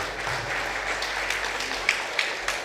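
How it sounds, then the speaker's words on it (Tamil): A conference audience claps in a dense, even wash of applause, with a few sharper individual claps standing out near the end and no voices. "அவருக்கு ஒரு பெரிய கைத்தட்டல் கொடுங்க."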